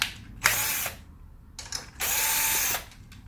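Power drill undoing the front bolts on an ATV 70, with bursts of whirring and ratcheting: a short run, a brief spin, then a longer steady whir, all up close with no talking.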